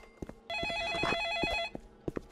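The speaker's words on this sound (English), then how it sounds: "Oh, the phone is ringing." A telephone rings inside a Roblox ice cream shop game, one warbling electronic trill lasting about a second, loud and close, with brief game clicks before and after.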